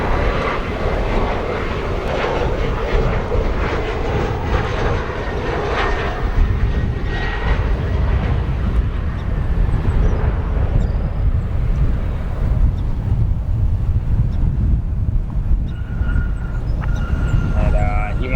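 An Embraer E175 jet landing at Chicago O'Hare with thrust reversers engaged, a loud continuous roar and rumble filling the whole stretch, steady and close with no clear break.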